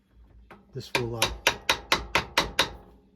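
The back of a wrench hammers repeatedly on a metal crimping tool. Nine or so sharp, evenly spaced metallic strikes ring out up close after a few softer taps, with no talk.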